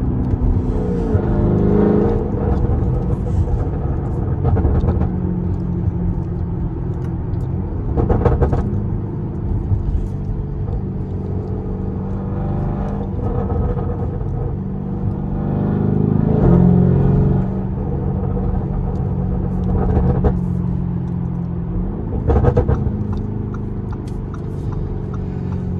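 A Lamborghini Urus SUV's engine rumbles close by with a deep, steady drone, swelling in a few brief revs and sharp pops across the span.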